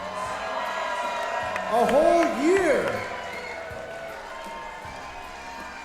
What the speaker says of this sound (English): please give a round of applause for the 1 year of Duke City Championship Wrestling